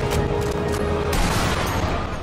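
Sniper Elite V2 gameplay erupts in gunfire, a sharp close report with a ringing tail followed by another rough blast and dense rumbling combat noise, loud and continuous across the short stretch, with no talking.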